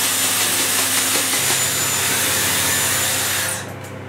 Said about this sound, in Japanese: この状態で乾かしていきます